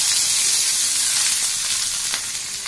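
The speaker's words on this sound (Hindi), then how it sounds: "और अब मैं डालूंगी इसके अंदर प्याज" Onions dropped into a hot pan of kadhi give a steady, bright sizzle that stays fairly loud and close throughout, with a faint hiss of steam.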